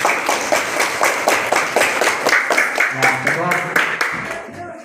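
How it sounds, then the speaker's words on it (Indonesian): A classroom of pupils in an Islamic studies lesson claps for a discussion group, rhythmic and fairly unified hand claps at a steady pace, with a voice speaking over the last moments. "Tepuk tangan untuk kelompok 1."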